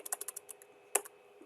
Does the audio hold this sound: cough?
no